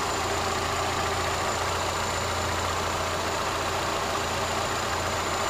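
The 2.5-liter engine of a 2009 Nissan Altima idles steadily under the open hood, a constant, fairly loud hum with no change in pitch and no one talking.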